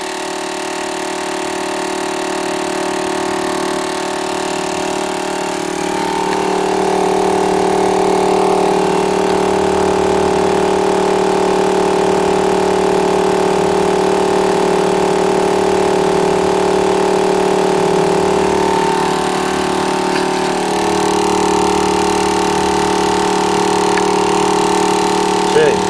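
A Ridge Rider 4WD tyre pump runs steadily with a loud, continuous motor drone and a buzzing hum that shifts slightly in pitch as the tyre fills, while someone talks over it.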